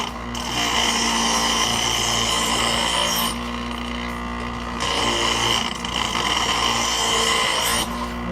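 A grinder sharpens a worn, damaged chainsaw chain in a steady high whining grind with an electric motor hum beneath it. Two short pauses break the grinding before it starts again.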